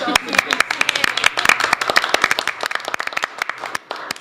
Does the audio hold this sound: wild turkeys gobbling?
no